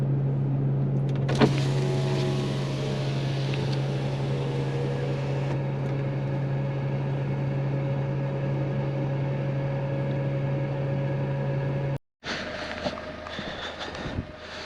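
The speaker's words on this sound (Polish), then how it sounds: "I nawijamy się na wyciągarce." A car winch on a Suzuki Jimny stuck off the road in deep snow whines in a long steady drone, stops briefly, then starts again with a rougher, strained tone.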